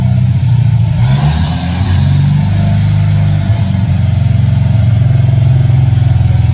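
A turbocharged car engine on a Mustang dyno, boosted to about 24 psi, drones loud and steady with shifting revs throughout, close and continuous with no pauses.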